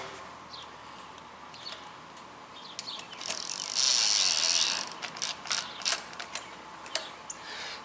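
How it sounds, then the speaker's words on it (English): A screwdriver ratchets screws back into the bracket of an Amazonbasics electronic keypad deadbolt, close, fast clicking bursts with a brief louder scraping rattle midway, no talking. "I'm gonna reinstall the screws back so this bracket wouldn't slide on me"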